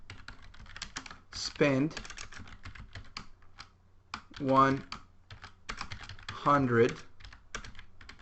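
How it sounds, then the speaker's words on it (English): Typing on a computer keyboard, with quick clusters of light key clicks between spoken phrases, close and clear under a voice. "Now let's type a function"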